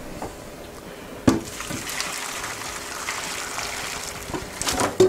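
Pasta water pours and trickles steadily into a colander, with a couple of sharp clanks of metal near the start and end.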